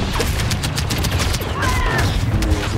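Artillery barrages in a Star Wars Battlefront battle pound in rapid, overlapping booms and blasts, loud and continuous over a dense din of combat effects.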